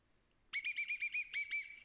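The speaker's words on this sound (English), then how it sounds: "Why'd you blow the whistle?" A toy whistle being blown in a run of about eight quick, shrill, warbling chirps, loud and close, with no talking over it.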